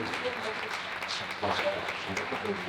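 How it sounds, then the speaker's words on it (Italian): An audience at a political campaign event in Mogliano applauds the candidates, scattered clapping rising a little halfway through over a murmur of background voices. "Io gli farei un grande applauso"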